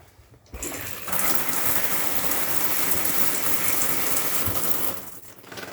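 Shower in a 2020 Bailey Phoenix 644 caravan running steadily, a dense hissing spray that starts abruptly, holds loud and even for about four seconds, then cuts off.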